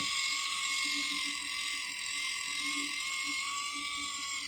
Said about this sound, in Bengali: এইটা আপু একটা মেশিন যেটা আপনার স্কিনের ব্লাড সার্কুলেশনটা বাড়াতে হেল্প করে